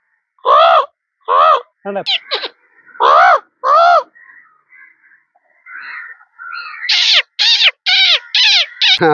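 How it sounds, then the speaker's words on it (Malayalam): Loud, harsh crow caws in spaced series, a few at the start and a rapid run near the end, with quieter calls between, as crows and kites gather. "ഈ ജില്ലയിലുള്ള കാക്കകളും പരുന്ന് മൊത്തം വന്ന്"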